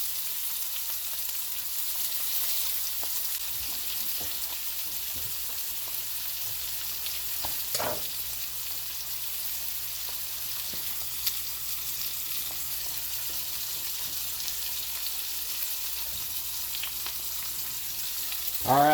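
Steak and bacon sizzling in melted butter with crushed garlic in a cast iron pan on a stovetop, a steady bright hiss with faint crackles throughout, close and continuous, no talking.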